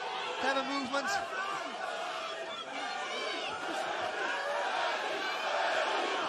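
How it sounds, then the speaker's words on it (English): Arena crowd at a Thor versus Eddie Hall grudge boxing match roaring and chanting Eddie Hall's name, a loud, dense and continuous wash of many voices with rhythmic swells running throughout. "Chant of Eddie Hall again. This crowd trying to pick Eddie up."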